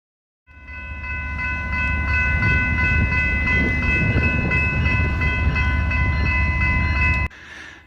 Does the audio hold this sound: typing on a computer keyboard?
no